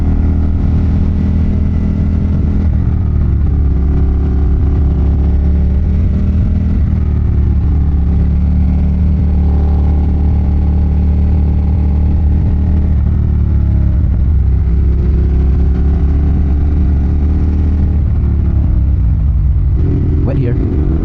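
A Ducati Monster motorcycle engine drones steadily throughout a relaxed road ride, a loud continuous low rumble with mild swells in revs and wind buffeting, no speech over it.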